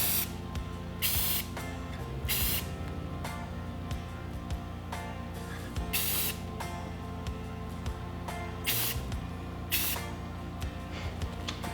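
Aerosol bursts of 2K clear coat sprayed over a stencil on a rotary shifter go kart, several short sharp hissing blasts separated by pauses, close and loud.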